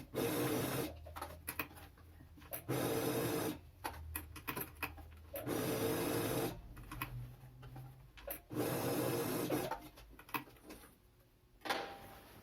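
A sewing machine stitches a reinforcing rectangle on the elastic of pajama pants, running in several loud, rapid mechanical bursts separated by brief pauses, close by and without talk.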